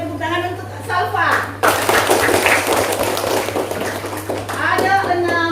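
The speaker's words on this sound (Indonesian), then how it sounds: "Berikan tepuk tangan untuk Salva." Classroom applause for a student rises abruptly into a dense wash of clapping that carries on for a few seconds, with a teacher's voice talking before and after it.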